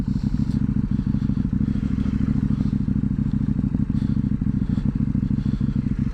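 KTM 790 motorcycle on a winter test ride, its engine droning loudly and steadily throughout with constant low rumble and wind buffeting, punctuated by small clatters from the road, heard close from the rider's position.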